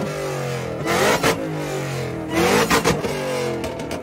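A car named Helenor, the winning entry of a Cars and Coffee rev contest measured at 130 decibels, revs its engine hard in repeated loud surges, with the pitch climbing and falling between blips and a steady idle roar underneath.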